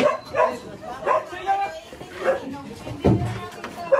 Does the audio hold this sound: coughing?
no